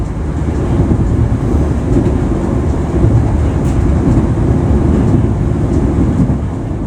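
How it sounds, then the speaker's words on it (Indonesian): The KA Gumarang passenger train arrives at Cepu station with a steady, loud, low rumble. Wind buffets the microphone throughout and no distinct horn or clanks stand out. "kereta api Gumarang udah tiba di stasiun Cepu"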